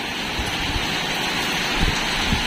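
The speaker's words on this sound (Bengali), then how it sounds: "তুমুল বৃষ্টি হচ্ছে আমাদের" Heavy rain heard through a window pours in a dense, continuous roar, steady and loud, with occasional low thuds of water hitting surfaces nearby.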